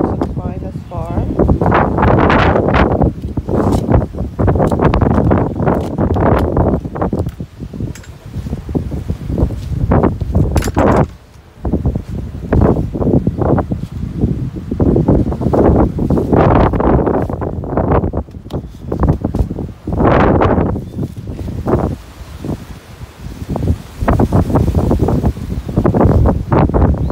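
Strong February wind gusts through garden plants, including a red leaf hibiscus and a rose, roaring and buffeting the microphone in loud continuous surges with brief lulls, while a person talks over it.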